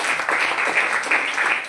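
A crowd at a health talk bursts into a short round of applause, dense clapping held steady for under two seconds, fairly close and loud.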